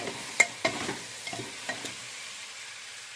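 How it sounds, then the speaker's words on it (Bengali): Boiled potatoes being stir-fried with spices in a pan, a faint soft sizzle broken by a handful of sharp scraping stirs near the start, then quieter frying. "এবার সিদ্ধ করা আলুগুলো দিয়ে দিলাম, দিয়ে একটু নেড়ে চেড়ে"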